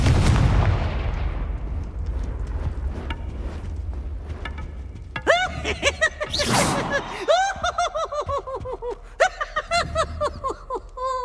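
Confringo fire spell blasts in Hogwarts Legacy, a heavy booming explosion followed by several sharp fiery bursts and whooshing casts, mixed with laughter-like creature squeals and chirps over a rumbling background.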